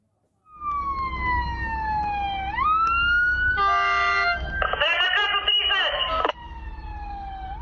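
A fire engine's wailing siren sweeps up and down, loud and close, then changes to a rapid yelp as it races across a railway crossing right in front of a train in a village in Cluj County, Romania, with horn blasts mixed in.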